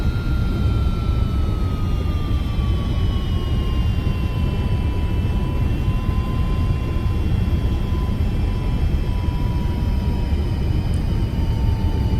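An MD-11 airliner in X-Plane 12 takes off with a steady, loud jet engine roar and a high whine that slowly falls in pitch, continuous and unbroken throughout.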